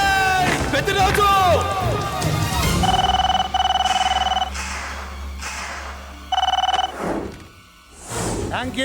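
A telephone ringing in a dramatic Telugu film scene: repeated electronic ring bursts in short regular pulses, loud and clear, with background music and a crowd or voices around them.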